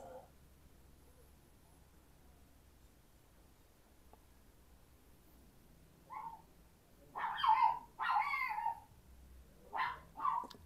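After a quiet stretch, a small dog gives a few short, sharp barks and yips nearby, in a quick cluster of four or five.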